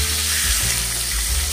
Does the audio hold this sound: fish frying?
yes